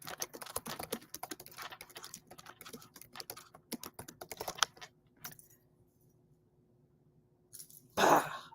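Keys clatter on a computer keyboard in a quick, uneven run of close taps for about five seconds, then stop, leaving near silence until a brief louder burst near the end.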